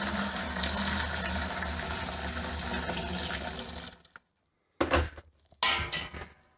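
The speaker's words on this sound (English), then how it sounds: "So I'll pour my 2 litres of hot water." Two litres of boiling water pour steadily into a container, a continuous splashing gush that stops abruptly, followed by two short bursts of pouring.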